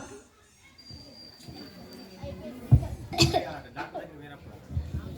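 A few harsh coughs, from someone coughing up blood, burst out near the mic amid quiet talking, the loudest coming in a quick pair toward the middle.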